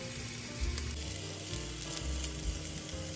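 Cooked rice and chopped tomatoes sizzle and fry in a pan as they are stirred, a steady close crackle with soft scraping thumps of the spoon throughout, no voices.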